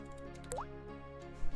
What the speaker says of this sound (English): I'll throw in the drip noise from Gary's mod.